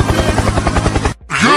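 A helicopter's rotor chops in a fast, steady thud with a loud engine whine, close and alone, cutting off abruptly before a brief different sound starts, as in a sound-guessing quiz.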